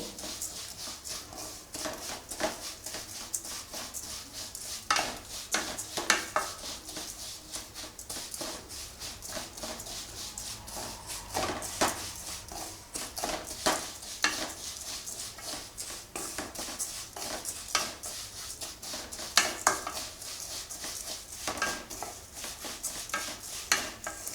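Vermicelli being dry-roasted in a pan for milk payasam, stirred with a spoon, giving a steady stream of light scraping and clicking strokes throughout, with no talking.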